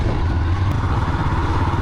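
A motorcycle engine drones steadily at close range during a wheelie practice run, a loud, even rumble with no break or change across the short stretch.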